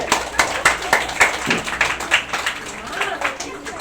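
Group clapping in a classroom, a series of sharp rhythmic claps in quick repeated bursts from several people, fairly close, with voices briefly mixed in.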